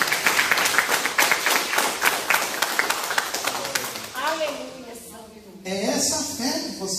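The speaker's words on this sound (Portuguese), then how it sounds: "Uma salva de palmas para Jesus." A congregation at a church service claps in fast, steady rhythmic bursts for the first few seconds, then the applause fades as a preacher's voice carries on speaking over it.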